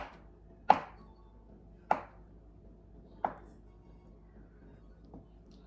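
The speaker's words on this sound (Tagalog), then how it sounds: "So, i-chop ko to into ng maliliit na size." Three crisp knife chops through medium firm tofu on a cutting board, evenly spaced about a second apart, with a fainter fourth tap near the end and no talking.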